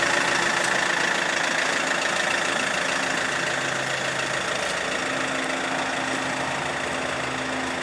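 A 2007 Fiat Ducato van idles steadily after start-up, with an even diesel-like clatter and rumble. Wind noise runs over it outdoors, and no one speaks.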